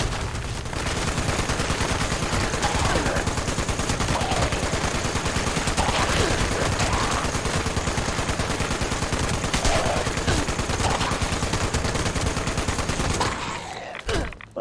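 Continuous rapid automatic gunfire in Fallout 76 runs loud and nearly unbroken for over ten seconds, a dense rattling fusillade that cuts off abruptly at the end.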